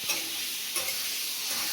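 Eggs fry in hot oil in a wok (karai), a close, continuous sizzle and hiss with a couple of brief louder crackles.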